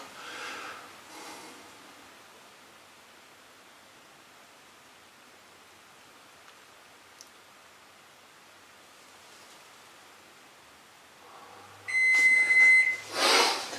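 Kitchen oven timer beeping near the end, a short run of bright electronic beeps over quiet room hum, moderately loud and close.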